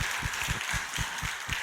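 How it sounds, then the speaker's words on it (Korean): Church congregation applauding in worship, a dense, steady wash of many hands clapping together, with a faint low rhythmic thump underneath. "우리 하나님께 영광과 감사의 박수를 올립니다."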